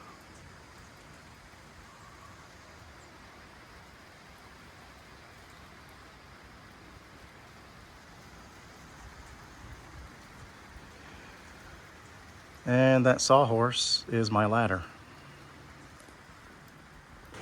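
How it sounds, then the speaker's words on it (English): Steady rain patters on an 1895 double crib cantilever barn with huge on-site milled beams, a soft continuous hiss throughout, with someone briefly speaking near the end. "Okay, it has started to rain."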